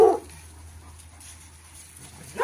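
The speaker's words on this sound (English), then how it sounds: "there's our grand puppy Brutus, don't you wish you had a grand puppy this big" A big puppy whimpers in two short, soft cries, one at the start and one at the end, with near silence between them.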